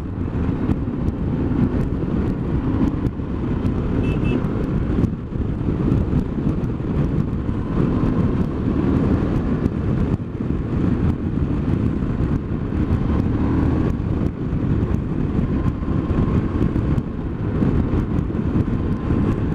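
Motorcycles ride along a road in a group with steady, loud engine drone and heavy wind buffeting the microphone throughout, continuous and close.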